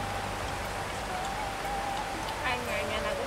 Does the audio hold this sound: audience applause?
no